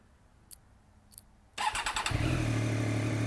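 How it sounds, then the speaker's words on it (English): A 2017 Triumph Daytona 675R motorcycle engine catches after two faint clicks, then rises into a loud, sustained rev held close to the bike with no talking. "we'll rev it up one time for you"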